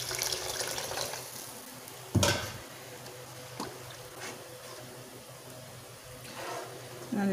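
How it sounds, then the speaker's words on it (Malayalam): Water poured into a pan of tamarind-based fish head curry, a running liquid wash with a couple of sharp clatters of a vessel, heard close and moderately loud. "നമുക്കതിലോട്ട് ലേശം വെള്ളം കൂടെ പുളിയുടെ അതിലോട്ട് പാർന്ന് ഒഴിച്ചു കൊടുക്കാം"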